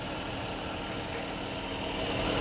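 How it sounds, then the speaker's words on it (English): Car engine idling with a slight growl, a steady low rumble with faint rough texture, close and continuous for a couple of seconds with no voices. "Yeah, this engine purling like a kitten."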